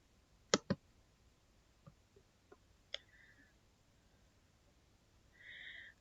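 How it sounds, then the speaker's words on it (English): A computer mouse gives a quick double click, followed by a few faint, sparse clicks in a quiet room. "So I click here."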